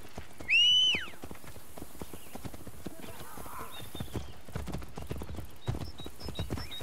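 Horses galloping in Assassin's Creed Brotherhood, rapid hoofbeat clip-clop running throughout, with a brief whinny near the start and game sound effects layered over the steady rhythm.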